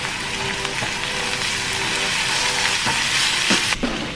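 Minced garlic sizzles steadily in a hot pan, a constant close frying hiss with a few soft stirring scrapes toward the end.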